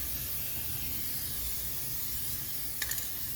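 Steady hiss of Cosmoline wax coating being sprayed into a corner of a 1985 Mercedes 300CD engine compartment, a continuous close spray with a few faint clicks near the end.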